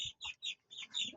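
Racing pigeons in a loft make soft, close coos and chirping calls in a short run of quick bursts.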